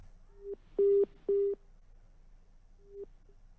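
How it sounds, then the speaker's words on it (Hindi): After a call is cut off, a telephone busy tone sounds, with a few clear, steady beeps, two longer ones close together, then a fainter short beep after a pause, over a quiet line. "फोन डिस्कनेक्ट हुआ"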